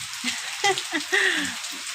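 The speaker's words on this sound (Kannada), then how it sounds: "ಸ್ವಲ್ಪ ಮಳೆ ಬರ್ತಾ ಇದೆ" Light rain pattering outdoors near a house with eucalyptus trees, a soft steady hiss with a few brief crackling drops, faint and continuous throughout.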